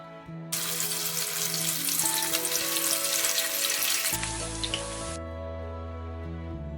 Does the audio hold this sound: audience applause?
no